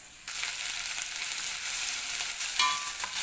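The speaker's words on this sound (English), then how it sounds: "So you wait for the oil to heat up, and then you go in with the onions." Onions frying in hot oil in a pan for a coconut cream omena dish, a steady bright sizzle that starts abruptly and stays loud and continuous, with no talking.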